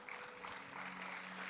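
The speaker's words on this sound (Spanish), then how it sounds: "Alguien dele un aplauso a Dios." Church congregation applauding during an anniversary service sermon, a steady wash of clapping filling the room at moderate distance with no voices over it.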